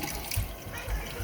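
Hot water runs steadily from a sink tap in a home-brewing setup, giving a soft, continuous splashing flow with faint low gurgles, heard fairly quietly and without talk.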